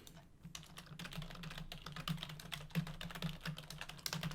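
Steady, rapid keystrokes on a computer keyboard while code for a tower defense game's upgrade and sell logic is typed, a close, continuous patter of clicks with a few louder key hits.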